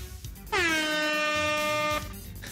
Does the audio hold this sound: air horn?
yes